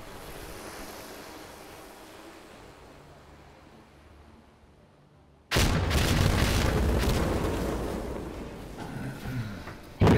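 A rocket blast in Insurgency: Sandstorm bursts in loud and sudden after a stretch of low, quiet ambience, then rumbles and roars for several seconds, with a second sharp boom right at the end.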